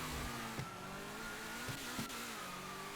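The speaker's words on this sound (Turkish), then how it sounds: "güzel bir egzoz patı" A car engine revs in the GTA 5 video game, holding a steady droning tone with a few sharp exhaust pops cracking through near the middle and end.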